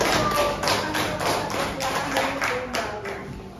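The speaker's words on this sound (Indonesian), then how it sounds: "Tepuk tangan buat kelompok 1" Schoolchildren in a fourth-grade classroom clap for group 1 in a steady, rhythmic pattern of sharp, close hand claps repeating at even intervals throughout.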